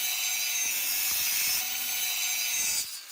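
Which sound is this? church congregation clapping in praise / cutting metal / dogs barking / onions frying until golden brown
cutting metal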